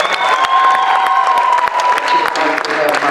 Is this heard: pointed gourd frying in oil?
no